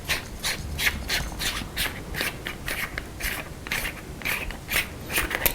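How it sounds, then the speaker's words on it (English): Close, dry scraping and ratcheting clicks repeat in a steady rhythm as the threaded neck of a Tracer LED Ray F900IR infrared illuminator is twisted apart by hand, with no talking. "if you just unscrew the neck part"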